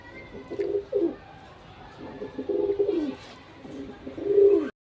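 Pigeons kept for sale coo in repeated soft throaty phrases close by, three or four rounds with brief pauses between, alone with no voices.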